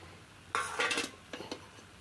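Spoon stirring lilva kachori filling in a pot, a few scraping clinks of metal against the pan in two short bursts, close and fairly quiet, with no talk.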